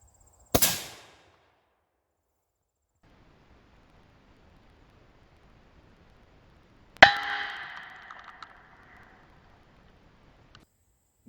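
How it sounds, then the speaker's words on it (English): A VZ24 rifle fires 8mm Mauser rounds at an AR500 steel plate outdoors: a sharp, loud gunshot crack, then a second shot followed by a bright, ringing metallic clang that decays over a couple of seconds, with quiet between. "The VZ24 firing 8mm Mauser hit a little bit harder."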